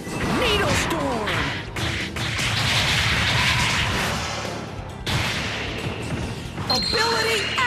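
Loud, dense explosions and smashing impacts from special-ability attacks in the video game Bakugan: Defenders of the Core burst repeatedly with whooshing effects, layered over busy sound effects and music throughout.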